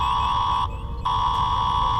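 Spaceship alarms in a space comedy blare as a continuous electronic tone, loud and steady, cutting out briefly partway through before resuming; no talking is heard.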